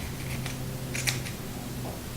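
Scissors trimming a seam allowance on fabric for a drawstring bag, giving a few quiet snips and one sharper cut over a steady background hum, close but faint.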